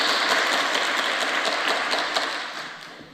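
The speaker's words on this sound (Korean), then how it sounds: "박수 한번 쳐요." A congregation at a Friday all-night prayer meeting at a large prayer retreat claps together, a dense, steady roar of many hands that gradually fades toward the end.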